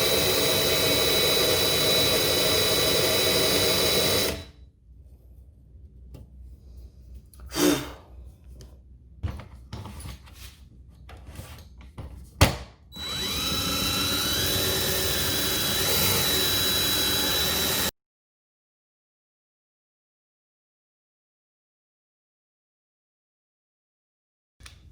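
Compressed air is forced into a new turbo kit system on a Z car for a leak test: a loud, steady hiss for about four seconds, a lull with a few clunks, then a second sustained rush before the sound cuts off.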